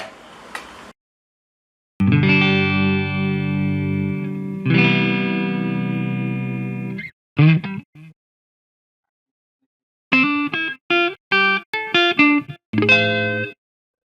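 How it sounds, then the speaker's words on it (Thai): Clean electric guitar played straight through an amp head and multi-effects unit into a cabinet, with sustained ringing chords followed by a pause and short, choppy strummed stabs, loud and close with no talking. "เช่นเคยครับเสียงคลีนก่อน ออกจากกีตาร์เลยนะ สดๆไป"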